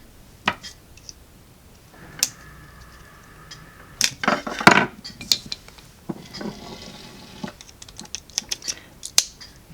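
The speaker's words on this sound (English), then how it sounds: "Now to take the batteries out" Batteries being taken out of a ProtoThrottle model railroad controller, a series of close plastic clicks, snaps and small rattles at an irregular pace, with a brief scraping slide midway.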